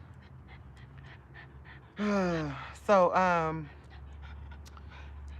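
Dogs pant loudly near the microphone, two heavy breathy bursts with whimpery gasps, set against a quiet outdoor background with a brief spoken word.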